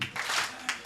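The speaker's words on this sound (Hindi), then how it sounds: "अभी वो ताली में मजा नहीं आ रहा मुझे" An audience clapping at a Hindi comedy poetry show, a short burst of applause that swells and fades within a second, fairly close and dense, with no voice over it.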